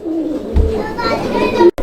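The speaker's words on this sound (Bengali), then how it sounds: "কবুতর এটা হচ্ছে লাহোরি কবুতর" A Lahori pigeon coos briefly at a pigeon market, a low soft warble close by, mixed with children's voices and chatter.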